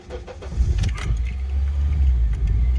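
A car with the check engine and VSA warning lights on cranks and starts up, a brief clatter giving way to a steady low idle rumble, close and fairly loud.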